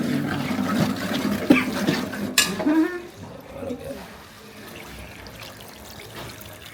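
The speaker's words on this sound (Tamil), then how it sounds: "புளி தண்ணி கரைச்சி வச்சது அப்படியே ஊற்றிட வேண்டியதான்" Tamarind water pours and splashes into a pan for a few seconds while making red chicken gravy, with a metallic clink, then fades to quiet room noise and faint sizzling.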